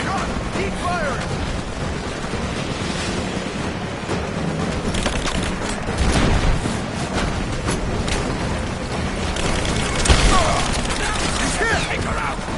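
Gunfire in the video game Rise of the Tomb Raider: sporadic booming shots and bursts ring out over a dense, noisy battle soundscape, with a couple of louder hits standing out midway and near the end.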